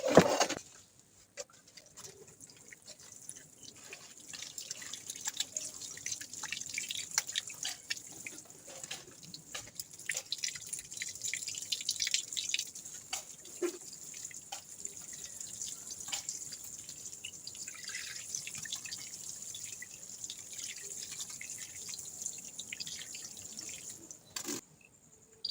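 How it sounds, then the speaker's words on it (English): Water poured onto a freshly planted dragon fruit plant tied to a trellis, a steady close splashing and pattering with drips that runs for the whole stretch, with no talking. "Let me water this in."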